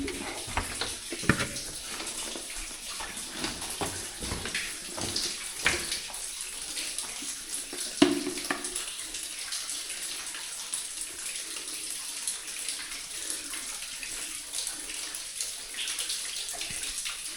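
Water splashes and sloshes continuously in flooded underground mine workings in Wales, with irregular wading splashes over a steady rushing wash that runs throughout.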